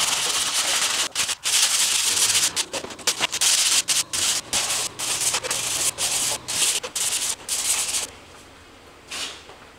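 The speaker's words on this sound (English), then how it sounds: "Let's sand some of these edges off." Rhythmic hand sanding scrapes back and forth over body filler edges on car bodywork, a Lexus LS400, with steady strokes and brief pauses for nearly eight seconds before the rubbing fades.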